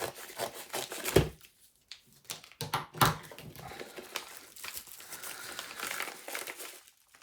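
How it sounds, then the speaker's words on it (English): Scissors cutting open a heavily wrapped package, with crinkling plastic, snipping and rustling handled up close, faint and intermittent. "We're going to go for scissors with this because it's pretty well mummified."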